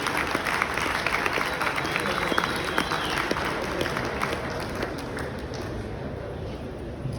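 Audience at the Moto Craft 2024 show claps steadily for the unveiling of a Vincent Black Lightning replica motorcycle, a dense, loud wash of applause with scattered whistles that eases off slightly toward the end.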